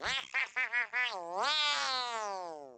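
A cartoonish creature voice from Mario Kart Wii makes four quick squeaky chirps, then a long wobbling, warbling cry that bends down and trails off, close and clear.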